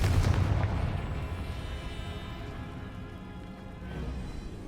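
A Confringo blasting spell goes off in Hogwarts Legacy, a loud boom at the start that rolls into a long, fading rumble with a smaller swell near the end.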